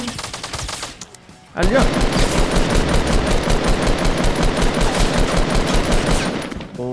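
Rapid automatic gunfire bursts out in the Fortnite video game, loud and close, a sustained rattling volley after a brief lull, while players talk briefly over it.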